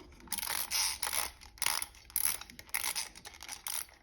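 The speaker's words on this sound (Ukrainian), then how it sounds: "Така завідна, цікава іграшка, сидить чортик у нас. Ми його заводимо," A small clockwork toy devil is wound up by hand, giving a run of rapid ratcheting clicks in short bursts with brief pauses, close and fairly quiet.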